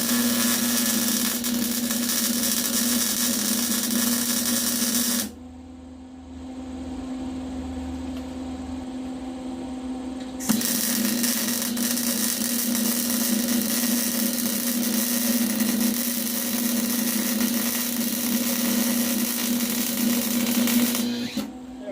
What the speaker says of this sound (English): So let's weld those up.